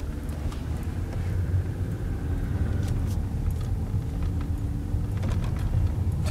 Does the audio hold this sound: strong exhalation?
no